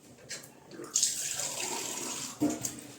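Tap water runs steadily into a cooking pot being topped up with more water while a dish of roqaq pastry is prepared on the stove, a continuous pouring rush with a couple of louder splashes, no talk over it.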